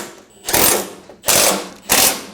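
A hand ratchet snugs down grille bolts on a 2019-2025 Ram 2500, making three short, close bursts of rapid clicking separated by brief pauses.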